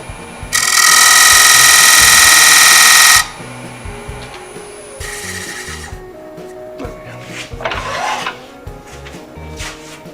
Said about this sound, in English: Let me deepen that outer groove a bit.